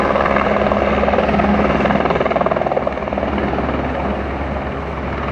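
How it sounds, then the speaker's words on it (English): A helicopter winds down on a hospital building's rooftop helipad after landing, its steady rotor thrum and engine whine loud and continuous, gradually easing in intensity toward the end. "There's a helicopter on the roof of that building, winding down after it landed."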